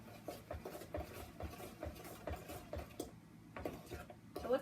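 Spoon stirring biscotti batter in a bowl, a quiet rhythm of repeated scraping and clinking strokes with soft speech in the background.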